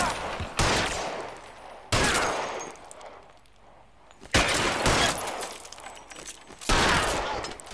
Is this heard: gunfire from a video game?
yes